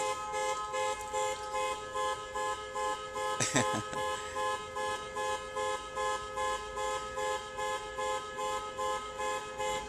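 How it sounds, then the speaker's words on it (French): A parked car's alarm siren blares in a steady pulsing pattern, repeating about twice a second, moderately loud, with a brief louder burst partway through and a voice faintly underneath. "cette voiture là dont la sirène vient d'être déclenchée"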